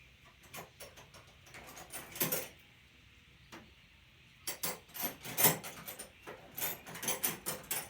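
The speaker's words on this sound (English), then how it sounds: "Just use a regular old 10mm wrench." A 10mm wrench at work on a 3.6 V6 engine of a 2020 Dodge Charger: rapid ratcheting clicks in bursts, with short pauses and light metallic taps between them, close and fairly quiet, no talking.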